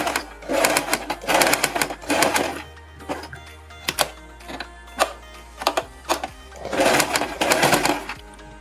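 Sewing machine stitching along the edge of a star-shaped gala neckline, running in repeated bursts of rapid needle clatter separated by brief pauses and handling clicks.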